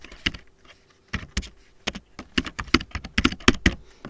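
Typing on a computer keyboard: irregular bursts of crisp key clicks, close and clear, with pauses between clusters.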